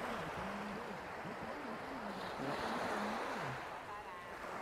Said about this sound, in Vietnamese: sóng không có lớn lắm, không có to lắm